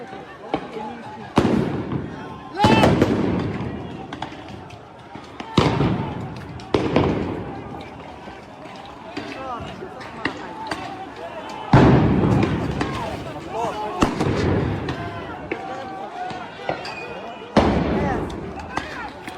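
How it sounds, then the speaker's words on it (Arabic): Stun grenades go off at Al-Aqsa Mosque in a series of loud booming blasts, about seven irregular bangs with echoing tails, amid crowd noise and shouting voices. "قوات الاحتلال تطلق قنابل الغاز والصوت."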